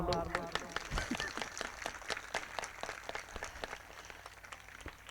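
Congregation at a Punjabi church service breaking into hand clapping, a run of sharp, scattered claps that starts dense and thins out over several seconds, with voices audible underneath.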